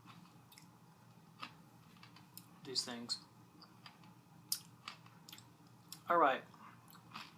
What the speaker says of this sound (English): In some cases, I'm really, really crunching through